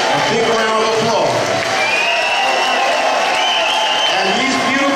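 Audience applause fills a northern soul concert at Skegness, honouring an English band: steady, loud clapping throughout, with a few cheers and crowd noise mixed in.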